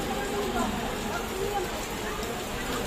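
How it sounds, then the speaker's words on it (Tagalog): Heavy rain pours steadily in Manila, a dense, even wash of noise that holds for the whole stretch with no gaps, falling alone without voices. "It is really raining in Manila."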